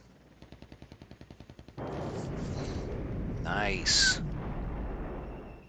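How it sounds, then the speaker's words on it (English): Artillery shells landing in the wargame Flashpoint Campaigns Red Storm: a rapid string of sharp pops gives way to a heavy rumbling barrage with a brighter burst near the end, loud and close, while a voice speaks briefly. "Our artillery's landing."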